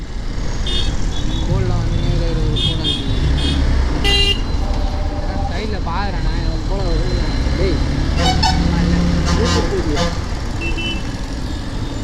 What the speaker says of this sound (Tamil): சரியான டிராஃபிக் ஆகுது